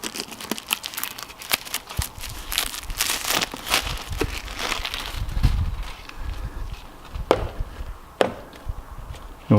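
A new oil filter for a 5.9 Cummins is pulled out of its plastic packaging, with close crinkling and tearing of plastic and a few sharp clicks and taps. There is no talking.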